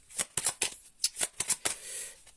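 Oracle cards shuffled by hand in a quick series of crisp, riffling bursts with short pauses between them, close and clear, with no voices.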